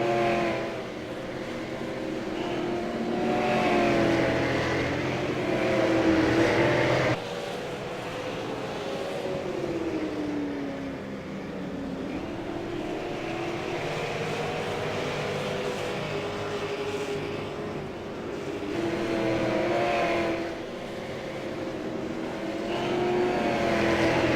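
Super late model stock cars race at Stafford, their engines roaring continuously with rising and falling pitch as a pack passes through the turns, loud and near for the whole stretch, with no talk.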